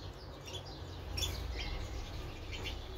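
Small birds in an aviary give short, high chirps and calls in scattered bursts over a quiet background, fairly faint overall.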